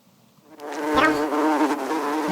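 A housefly buzzes close and steady, rising after a quiet start and holding a continuous whining drone, with no voices over it.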